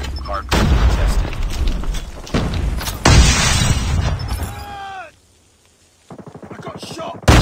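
Heavy gunfire in a Call of Duty Hardpoint match, loud rapid bursts of automatic fire and booms, a short silent gap, then more shots and a ringing tone, with a voice speaking over parts of it.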